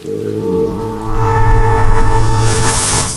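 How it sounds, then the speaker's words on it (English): A long, low wooden groan from a creaking floorboard creaks and swells, drawn out over a few seconds, loud and close. "The floorboard creaks loudly"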